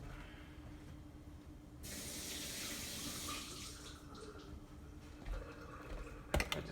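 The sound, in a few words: washing a dropped frozen milk cube under tap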